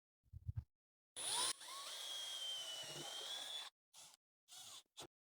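Power driver sinking screws into a wooden rifle rack, a high whining burst that runs steadily for about two seconds, then a few short whirs, close and fairly quiet with silence between, no talking.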